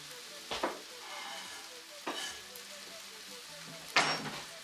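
Vegan stir-fry sizzles steadily in a pan as chili flakes go in, with a continuous frying hiss broken by three sharp bursts of louder crackle, faint background voices underneath.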